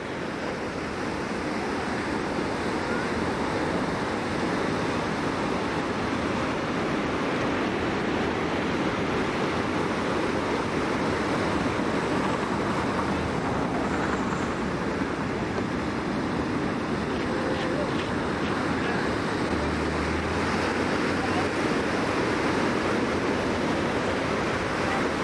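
Big ocean waves roll in at Haleiwa, Hawaii, making a steady, loud wash of surf mixed with wind noise that runs unbroken throughout.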